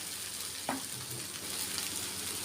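Potatoes frying in a pan while kanda poha is cooked, a soft steady sizzle with a brief clink of a spoon stirring, no talking.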